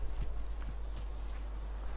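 A horse's hooves clop along in a steady rhythm over a constant low hum during gameplay of The Last of Us on PS4, with no speech.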